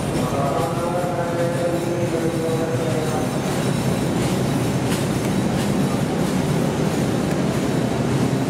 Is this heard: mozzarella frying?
no